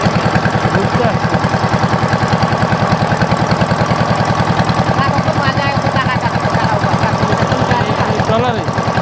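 Trawler boat engine running on the Surma river in Sylhet, a loud steady rhythmic chugging thump close by throughout, with people talking over it.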